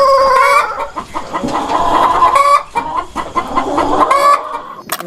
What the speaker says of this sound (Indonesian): Keluarlah seekor ayam.